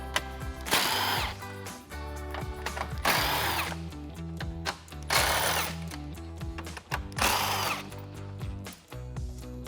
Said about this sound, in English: I'm switching over to an impact gun and a deep socket, so let's get those off